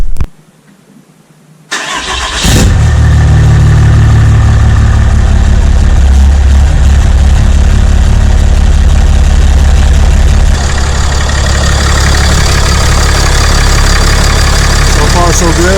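A 6.7 Cummins diesel fitted with a Smeding S369 SXE turbo cranks briefly, then catches and settles into a loud, steady idle with a deep rumble and turbo whine that runs on without break.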